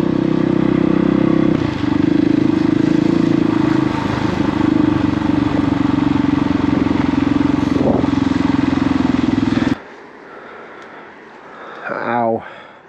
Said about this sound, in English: I just took the bike down through town